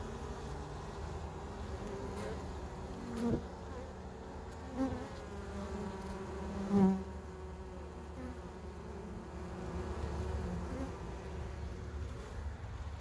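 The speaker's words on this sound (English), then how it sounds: "These are a lot nicer bees than the bees around there" A swarm of killer honey bees in a house buzzes continuously, a dense nearby hum with occasional louder passes of single bees close by, no talk.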